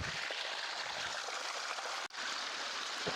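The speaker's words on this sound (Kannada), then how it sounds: "ಈ ಸಣ್ಣ ಚಿಕ್ಕ ಹೋಲಿಂದಲೇ ನೀರು ಬರ್ತಾನೆ ಇದೆ ನೋಡಿ" Water runs from a small hole in the rock near a waterfall, giving a steady close rushing and trickling sound that continues without pause apart from one brief dropout.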